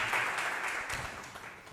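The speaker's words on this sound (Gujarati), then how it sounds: "એક વાર તાળીઓથી આ ભાઈને આપણે વધારવા જેવા।" A devotional gathering's audience gives a brief round of clapping for a man, faint and somewhat distant, a short dense patter that tapers off.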